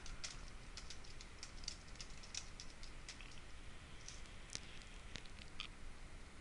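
A website name typed on a computer keyboard: faint, irregular key clicks in a quick run over a low steady hiss.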